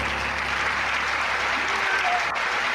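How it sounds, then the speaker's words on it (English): A studio audience gives loud, dense, continuous applause to welcome the guest on a snooker podcast, a close and steady roar of clapping throughout. "a nice big round of applause for our guest tonight"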